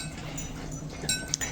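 Dogs being fed chicken with marrow-rich bones, giving faint, brief high whimpers and yips over a low background hum, close by.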